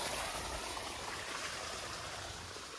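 Water from a farm pump gushing in a continuous, loud, even rush like a stream, heard up close with no talking.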